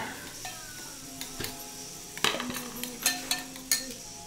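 A spoon stirring salt into plain yogurt in a bowl, with light scraping and a few sharp taps against the bowl, close and quiet with no talk.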